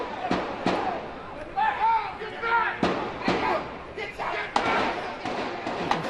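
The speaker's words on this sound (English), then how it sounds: "Hear these shots here," Gunshots ring out during a deadly street shootout in Jersey City, a series of sharp, loud cracks spread irregularly over several seconds and mixed with crowd noise and voices.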